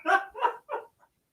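A dog named Chi-Chi gives three quick, close barks followed by a faint trailing yip, with no talking over it.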